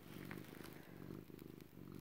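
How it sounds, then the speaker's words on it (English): A cat purrs steadily while lying on a lap during hand sewing, a close, soft, continuous rumble with a rhythmic pulse that runs through the whole moment. "I always have a cat on my lap out of four."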